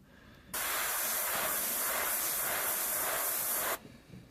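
Airbrush spraying paint for a monotone portrait, a single steady fine hiss lasting about three seconds, close and clear, with quiet before and after.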